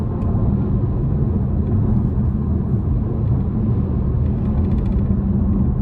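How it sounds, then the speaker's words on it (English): Road noise inside a 2025 Chevrolet Malibu RS cabin on 18-inch wheels while driving, a steady low rumble and tyre roar that stays even throughout, with no talk. "Road noise is minimal even with the 18s."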